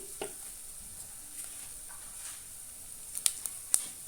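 Garlic fries in oil with chilli and coriander powder, giving a faint, steady sizzle with a few soft stirring clicks and scrapes toward the end.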